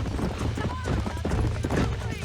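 Wild horses being wrangled and driven up a canyon in the Red Dead Redemption video game on Xbox 360, with rapid clip-clop hoofbeats and a whinny under a voice and a rumbling game soundtrack.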